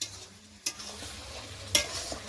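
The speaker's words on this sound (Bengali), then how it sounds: "এখন চিকেন কষা হবে আমাদের" Chicken is stir-fried in a pan for Bengali chicken kosha: soft scraping stirs with a faint sizzle underneath and two sharp metal clanks of the spatula, close by and without talk.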